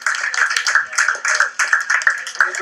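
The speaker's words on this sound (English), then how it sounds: "Big round of applause for Jason Trachtenberg" An audience applauds for Jason Trachtenberg, a steady run of clapping and cheering in bursts that rise and fall, with voices mixed in throughout.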